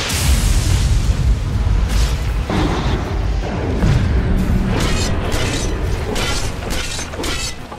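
A tower collapses in Dota 2 amid heavy booming blasts and shattering crashes, loud and dense, with several sharp impacts layered over rumbling debris.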